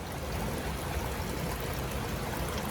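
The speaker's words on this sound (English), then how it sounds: "all you hear is this running water" Small fountains and waterfalls run steadily inside a garden conservatory, a continuous, even rush of splashing water that fills the space with no pauses and no voices.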